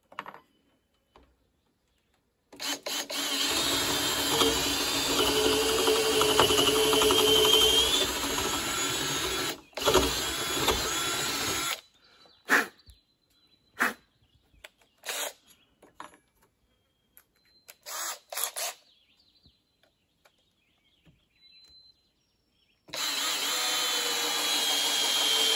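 A power driver sinks a 10-inch timber screw into a rafter while roof framing a cordwood sauna, a long steady motor whir followed by a series of short bursts and stops, then another sustained run.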